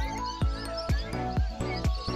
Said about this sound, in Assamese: চৰাই শব্দবোৰ শুনিছেনে?